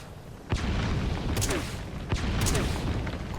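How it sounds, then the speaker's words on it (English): Grenade blasts in Metal Gear Solid V: The Phantom Pain, a sharp boom at the start followed by a couple more bursts over a dense, noisy rumbling background. "at least I get to grenade her"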